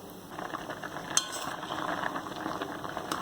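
Guava pieces in water boil uncovered in a pot over a high flame for jam, a faint steady bubbling and simmering with a couple of small clinks.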